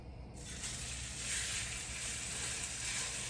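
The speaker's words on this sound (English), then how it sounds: "Immediately, you want to drop the steaks in the pan, that way they get seared on both sides." Steaks dropped into a hot pan, bursting into a loud, broad, continuous sizzle that swells after a quiet start and holds steady close by.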